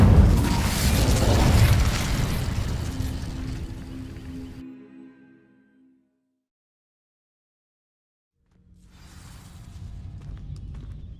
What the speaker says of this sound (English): These dry vines, one spark away from becoming kindling. Incendio!